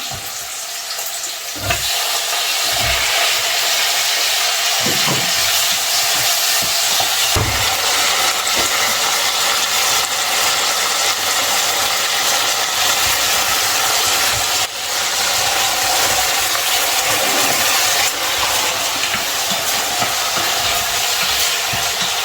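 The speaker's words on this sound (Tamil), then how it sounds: "இப்போ தக்காளி வந்து வதங்கிட்டே இருக்கட்டும்" Onions and tomatoes sautéing in a pan with salt, a steady loud sizzle and hiss throughout, with occasional clinks of a stirring spoon.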